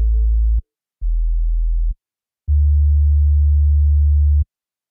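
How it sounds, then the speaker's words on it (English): Synthesized 808 bass drum tones from Retrologue 2 in Cubase: three clean, deep sustained booms, the last longest, separated by silence, with a faint click at each onset and nothing else present. "This controls the amount of click you'll hear in your 808."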